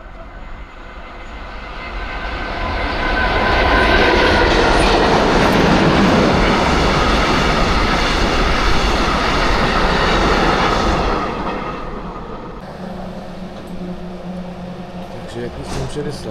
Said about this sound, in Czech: Takže jak jsem předeslal, jedu vlakem